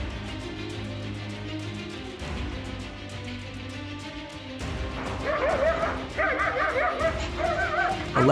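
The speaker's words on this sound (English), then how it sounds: "A leopard sneaked into a yard at night and suddenly attacked a sleeping dog." A sleeping dog in a yard at night, attacked by a leopard, yelps and whimpers in loud, rising cries. The cries grow more frantic toward the end over rough, noisy background sound.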